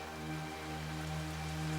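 Rain falling heavily outdoors during a television horror drama scene, a continuous dense hiss under a steady tonal hum, with no voices.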